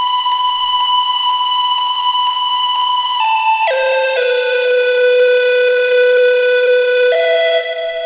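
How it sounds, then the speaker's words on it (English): Harsh, piercing EDM-style synth lead from the Arturia Mini V4 with a stock Logic delay, holding a bright buzzy tone and then gliding down into lower sustained notes, loud and alone. "the lead sound that I got just sounded really sharp and piercing"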